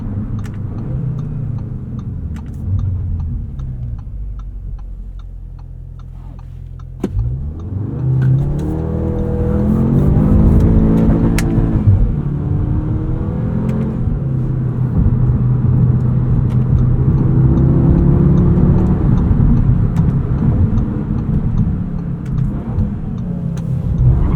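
A 2025 Audi S3 is driven hard through corners, its engine droning low, then surging and revving upward, holding a loud, steady, strained hum as it accelerates.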